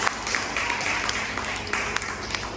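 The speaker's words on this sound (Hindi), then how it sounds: "एक बार तालियों से मैं स्वागत करना चाहता हूँ" Audience clapping at a seminar, a brief burst of scattered hand claps with an uneven, somewhat muffled texture heard at moderate distance.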